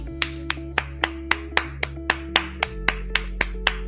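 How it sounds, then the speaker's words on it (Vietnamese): One person claps their hands alone in slow, evenly spaced claps, about fourteen sharp, distinct smacks, heard close over a faint steady hum. "như ngồi vỗ tay"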